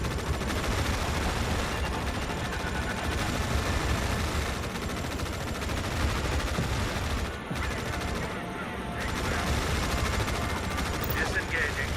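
Dense, continuous gunfire and explosions from the real-time strategy video game Tom Clancy's EndWar fill the scene at steady loudness, a sustained battle din with brief dips, with radio-style unit voices speaking over it.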